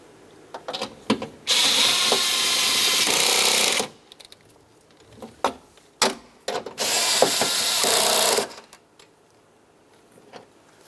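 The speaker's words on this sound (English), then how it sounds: "Continue on with your two 10mm headed bolts." Two long bursts of loud, rapid ratchet clicking close up as 10mm-head bolts on a 2007-2012 Nissan front power window regulator are snugged tight, separated by short clacks and handling noises.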